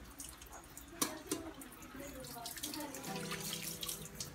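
Tap water runs steadily into a sink while raw pork chops are rinsed one by one in a strainer, a continuous splashing wash with a brief clatter near the start.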